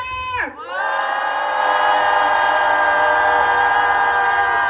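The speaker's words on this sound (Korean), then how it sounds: "함성 시작!" A protest crowd at an anti-war rally opposing troop deployment raises a loud, sustained collective shout after a brief dip, holding it steadily at close range.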